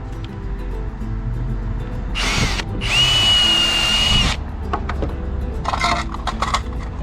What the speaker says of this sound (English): So we'll get our pilot drill.